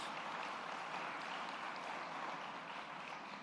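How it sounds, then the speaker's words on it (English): Audience applause at a community event at the Northeast Bronx YMCA, a dense, steady wash of clapping that holds at an even level for a few seconds with no voices over it. "So please give her a round of applause."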